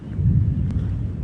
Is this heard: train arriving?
no